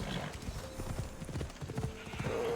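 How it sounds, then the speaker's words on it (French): A horse in Assassin's Creed Odyssey gallops up with rapid clip-clop hoofbeats and a whinny, close and steady over a game backdrop. "Mon cheval, bien évidemment, qui est toujours là quand on a besoin de lui."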